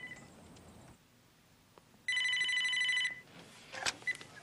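Telephone ringing in a horror film, an electronic ring that chimes once, then sounds again in a bright, loud one-second burst before a clunk as the receiver is picked up.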